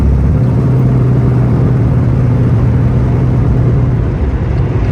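A muscle car engine rumbles loud and steady from inside the cabin during a test drive, a constant low drone with no clear revving and no talk.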